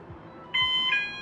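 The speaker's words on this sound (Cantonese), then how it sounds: "當用者離開床面，無線感應鍵會傳送信號俾無線警報器發出警報" A bright electronic alarm tone starts abruptly and keeps sounding in steady, repeated beeps, close and clear over a quiet background.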